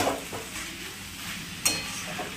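A spatula stirs banana flower curry with fish head in a pan, giving soft scraping and a light sizzle, with one sharper clink of metal against the pan partway through.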